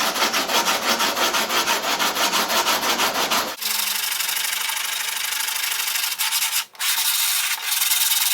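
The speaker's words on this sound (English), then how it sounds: "we're going to use some finer sandpaper as we get closer to that" Sandpaper rubs across the fuselage of an F-16 scale model in close, continuous scratchy strokes, rhythmic at first, then shifting to a steadier, smoother hiss with brief pauses.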